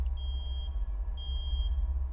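High electronic beeping of a clock in a dim room, a long steady tone followed by another sustained beep over a low rumbling background, no talking.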